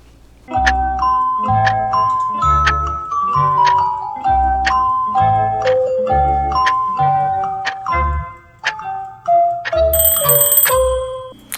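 Kitchen timer going off while peanut butter cookies bake in the oven, a loud, close electronic chime playing a repeating run of descending tones, with a brief higher beeping near the end.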